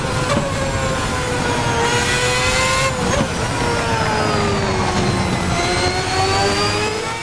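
Roaring V8 engine of a 2010 race car in a sim racing game, a steady loud drone with pitch rising and falling through gear changes and corners, continuous without pause.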